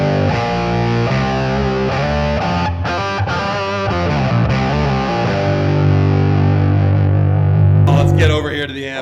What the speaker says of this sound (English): let's get some bass octaver on this and see how that sounds.